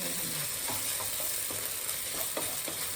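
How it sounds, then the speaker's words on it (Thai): Pork and long beans stir-fried with curry paste in a pan, a steady sizzle with repeated soft scraping strokes of a spatula at an even rhythm, close and alone. "ที่เหลือนี่ผัดให้มันเข้ากัน"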